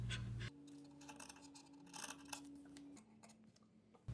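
Scissors trim excess fabric from a sleeve while sewing notch and rolled-over sleeves, giving a few quiet snips and rasping cuts close by over a low steady hum.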